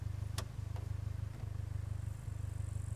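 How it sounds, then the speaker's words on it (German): A car engine in the survival video game SCUM runs at a steady idle, a continuous low rumble that holds evenly throughout with no voices over it. "Lass den Motor mal laufen."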